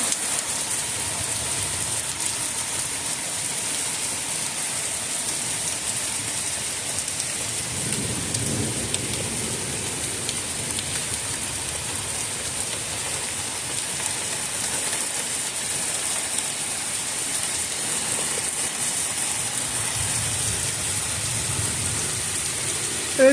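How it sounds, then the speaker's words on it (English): Heavy rain pours steadily through a warm summer thunderstorm, a dense, constant hiss with low rumbles swelling in the background now and then, heard alone without voices. "It's just pouring"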